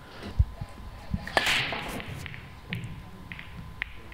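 A cue ball smashes into the racked balls on the break in a pro pool final, a sharp crack followed by scattered clacks of balls colliding and rolling.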